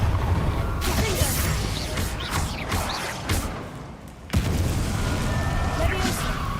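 Explosive Confringo spell blasts in Hogwarts Legacy, a dense rumbling game mix with a sharp burst near the middle after a brief dip, amid ongoing combat noise and a voice calling out spells.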